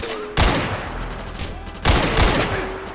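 Gunfire in the video game Ashes: Afterglow comes in two loud, sharp bursts of rapid shots with quieter rattling in between, each burst cracking in close and decaying over a steady background.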